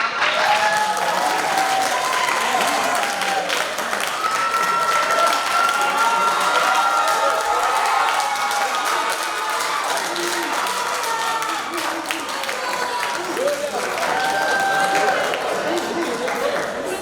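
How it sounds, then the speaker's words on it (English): Sustained audience applause at a school oratory competition, dense steady clapping from a large crowd filling the room for the whole stretch, with faint cheering mixed in. "Let's give him a round of applause."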